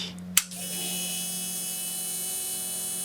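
Fuel pump on a BMW M54B30 engine running through its relay, fed from a can of 98 petrol: a steady electric whine and hum that starts after a brief click and holds evenly, fairly close.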